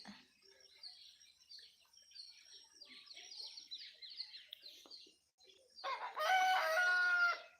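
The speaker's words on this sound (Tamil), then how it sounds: "கோன்னு கூப்பிடுது கோழி சேவல் கோழி இல்லை சேவல்" A rooster crows loudly nearby after a stretch of softer bird chirping and clucking, with no talk.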